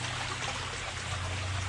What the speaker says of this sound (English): The water coming down the sluice.